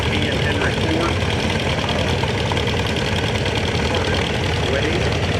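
A small Ferguson antique tractor engine runs at a parade in Berryville, Virginia, a steady rumbling idle with a knocking beat, while a commentator talks over it.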